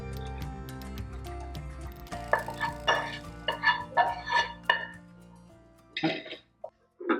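Roasted dry fruits being scooped out of a pan with a spoon, a series of close scraping and clinking utensil knocks against metal in a quiet kitchen, with a few pauses between strokes.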